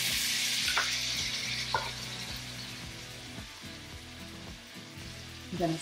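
Salmon swished through a mint julep glaze in a hot pan gives a steady, close sizzle and frying hiss, with soft scraping stirs and a few brief utensil knocks against the pan.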